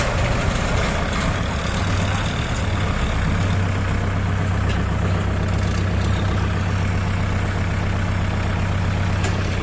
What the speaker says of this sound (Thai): นี้มาใช้รถไถทั้งหมด4คัน